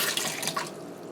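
Tap water runs steadily into a sink while raw, gutted, headless fish are rinsed, a continuous broadband splash with small drips and shifts in flow, close and moderately loud with no talking.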